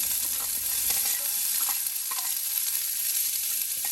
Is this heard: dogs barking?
no